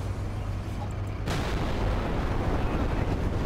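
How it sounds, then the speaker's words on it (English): A tank gun fires in War Thunder from a 29-K self-propelled gun, one sudden heavy boom cutting through a low engine drone, then a long rumbling decay. "I think I put that shot right down his barrel"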